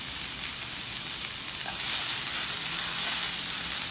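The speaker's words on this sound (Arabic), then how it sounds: "هناخد البصله بتاعتنا ونحطها على طاسه بدون اي دهن" Onion cooking in a dry pan with no fat, a close, even sizzle with faint stirring that holds steady and bright for the whole stretch, no voices.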